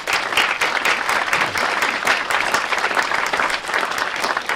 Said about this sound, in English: give him a round of applause as a word of thanks